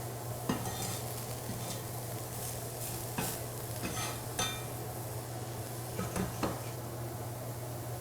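Onions cooking on a hot griddle for smash burgers give a steady, close hiss under scattered metal spatula scrapes and light clinks, with no one speaking.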